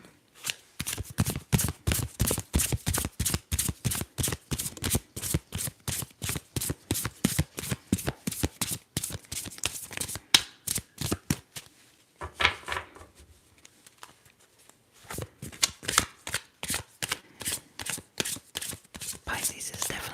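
Tarot cards being shuffled close up in a quiet setting, a long run of quick, crisp riffles in a regular rhythm that pauses briefly near the middle and then resumes, with a soft voice faintly underneath.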